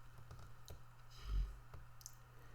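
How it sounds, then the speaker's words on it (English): Calculator buttons pressed one after another, soft quiet clicks in an irregular sequence over a low background hum, close by with no talking. "We use a calculator to find the ratio, typing it in this way."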